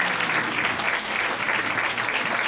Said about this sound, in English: another round of applause for that great film